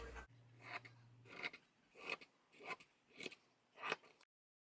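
Scissors cut through t-shirt fabric in about six steady, quiet snips, each a soft crunching slice spaced roughly evenly, heard alone up close.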